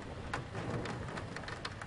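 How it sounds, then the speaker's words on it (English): Rain in the video game Gravity Bone, a soft, even hiss of falling rain with scattered droplet patter, continuous and fairly quiet with no voices. "I hate the rain."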